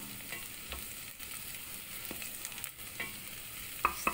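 Garlic fries in a pan with a soft, steady sizzle while it is stirred, with a few light utensil clicks toward the end, quiet and close.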